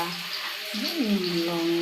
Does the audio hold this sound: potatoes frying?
yes